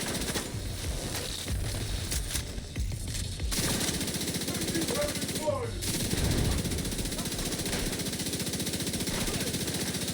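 Video game light machine gun fire in a tank LMG build, rapid bursts of dense automatic shots crackling in a sustained stream, with a short pause and fainter effects between volleys.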